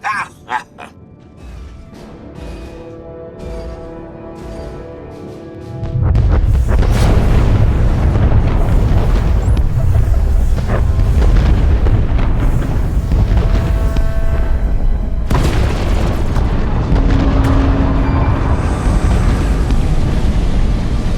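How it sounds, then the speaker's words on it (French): Explosions and roaring fire in Star Wars: The Old Republic, a sudden loud boom followed by a sustained, dense rumbling blaze with crackling bursts, continuing steadily at high volume alongside a second impact midway. "Rien, des Skytroopers, des explosions et beaucoup de feu."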